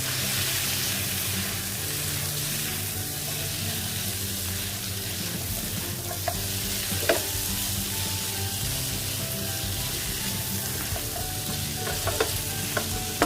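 Celery stir-frying in a pan with salt, pepper and oyster sauce, a steady sizzle running throughout as a utensil stirs, with a few sharper scrapes and knocks against the pan near the end.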